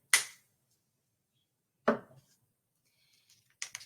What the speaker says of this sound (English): Then lid, make sure you hear it click.